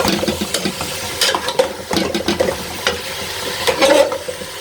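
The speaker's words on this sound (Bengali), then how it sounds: "সুন্দর করে কলাটাকে কষিয়ে রান্না করে নিচ্ছি, দেখুন।" Raw banana is sautéed and stirred in a pan, with a soft sizzle under repeated scraping and clacking strokes of a spoon against the pan.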